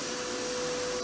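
A household vacuum cleaner runs close by with a steady, unbroken roaring whine, its motor hum holding one even pitch throughout.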